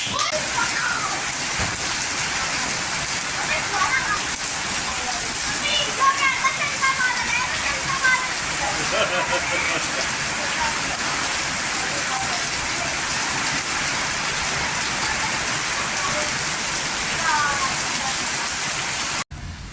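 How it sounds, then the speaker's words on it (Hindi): Very heavy monsoon rain pours steadily as a dense, loud wash that lasts throughout, with faint voices and scattered bird chirps partly buried underneath. "बहुत ज़्यादा तेज़ बारिश अब भी हो रही है, बहुत तेज़ वाली बारिश।"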